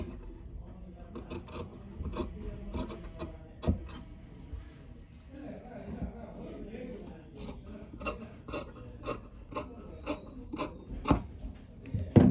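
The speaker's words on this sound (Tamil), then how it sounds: "இப்போ கட் பண்ணிக்கிறோம்." Scissors cut through blouse fabric up close in a series of short, crisp snips and rasping strokes, irregular in rhythm, with faint speech in the background.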